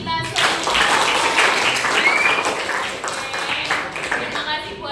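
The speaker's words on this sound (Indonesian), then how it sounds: "Tepuk tangan buat kita semua." Schoolchildren in a junior high classroom clap together in a lively, steady round of applause lasting a few seconds, fairly close and fading slightly at the end.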